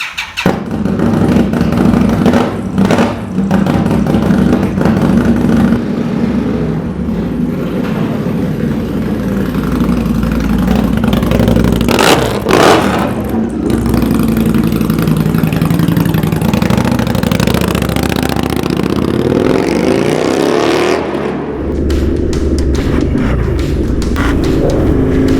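An Indian Scout 'Street Hooligan' motorcycle built by Krazy Horse, heard while riding on a motorway, its loud engine droning steadily and close with wind rush and a few shifts in pitch.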